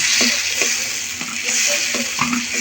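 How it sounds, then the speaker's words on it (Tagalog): Chopped tomatoes sizzle and fry in a hot pan for chicken adobo, a steady close hiss broken by soft scraping stirs, with no talking. "Lutuin muna natin yan ang kamatis bago natin ilagay yung chicken natin"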